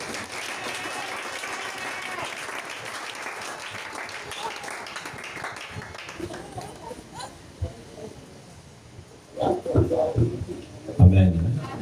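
A church congregation at a French-language service applauds together, a dense steady wash of clapping that thins out midway, followed by louder bursts of voices near the end.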